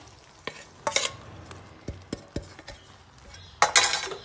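Sesame, peanut and khoya barfi mixture being stirred in a pan: close, irregular scrapes and metallic clinks of a spoon against the pan come in short bursts over a low sizzle, with no talking.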